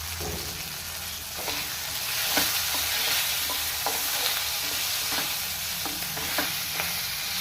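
Turmeric is stirred into paneer masala frying in a pan, with a continuous close sizzle and repeated soft scraping strokes of the spoon at an irregular rhythm, steady and loud with no voices.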